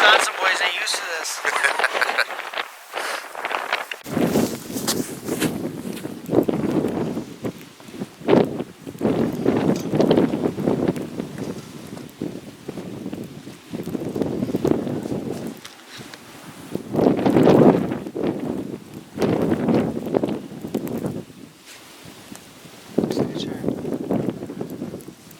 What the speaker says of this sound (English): It's probably 30-40 mile wind gusts.